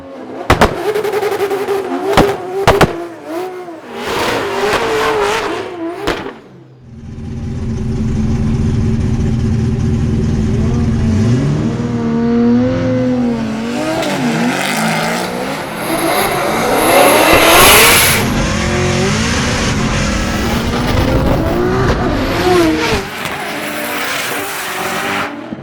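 A Formula Drift car launches off the line in a drag race, engine revving hard with a sustained roaring acceleration and tire squeal, loud and close, with brief bursts of noise before the launch.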